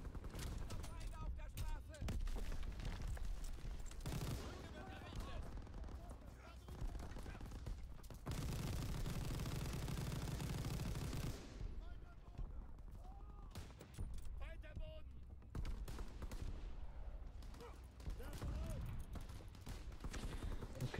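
A mounted gun fires in Call of Duty WWII in heavy, continuous bursts with loud booming stretches, while someone talks in German over the battle noise.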